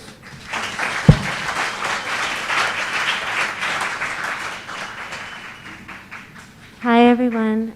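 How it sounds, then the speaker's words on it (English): Audience applause for a panel of poets in a community room at a book festival, a steady wash of clapping lasting several seconds before a voice begins speaking at the end. "A round of applause for them."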